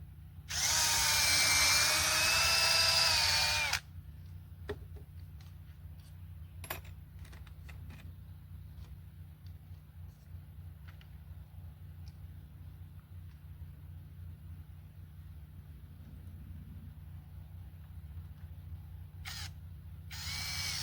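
A single loud burst of a power drill whirring for a few seconds, followed by a long stretch of low hum with faint clicks and taps.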